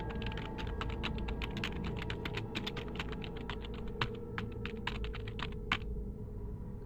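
Computer keyboard typing, a rapid irregular run of crisp close key clicks lasting several seconds over a low steady background hum.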